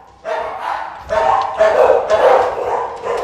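A big Akita dog barks loudly and close by, letting out four or so heavy, drawn-out barks in quick succession.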